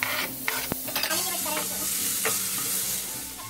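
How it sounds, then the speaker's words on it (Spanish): Onion and garlic frying in oil in a pan, a steady close sizzle broken by clinks and scrapes of stirring, continuous with no talk. "Engase la sartén con un poco de aceite y añada la cebolla y el ajo. Cocine hasta que esté transparente."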